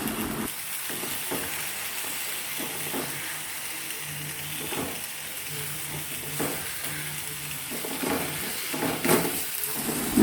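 Lemon pieces being stirred into a spice paste for lemon pickle, with a steady sizzling hiss and soft scraping, clicking stir strokes that recur throughout, close and moderately loud, with no talking.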